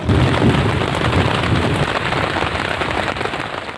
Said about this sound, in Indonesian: Ditambah hujan serta petir yang menciutkan gali untuk terus lanjut.